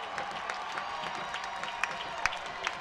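In Brawley Stadium on a third down at a college football game, a modest crowd makes distant, low-level noise with scattered claps and a few sharper pops over a steady murmur.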